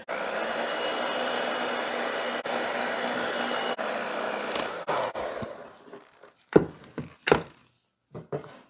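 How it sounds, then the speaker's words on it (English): Electric hand mixer beating boxed cake mix into batter in a bowl: a steady, loud motor whir for about five seconds, then it winds down and stops, followed by a few sharp knocks and taps. "We're just going to use a hand mixer."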